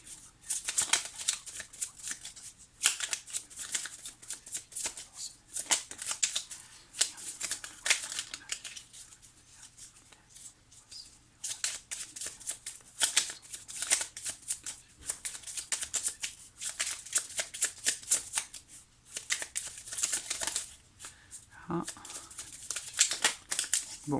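Tarot cards shuffled by hand in a steady stream of crisp riffling and slapping bursts, close and fairly quiet, running continuously with brief pauses and no talk.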